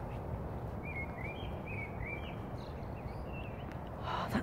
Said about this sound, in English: The bird's making all the noise.